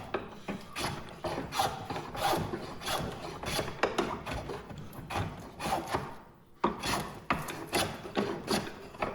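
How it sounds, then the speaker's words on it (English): A hand plane shapes a wenge wood guitar body in a run of repeated rasping strokes, close and moderately loud, with one brief pause before the strokes resume. "My planing technique leaves a little bit to be desired"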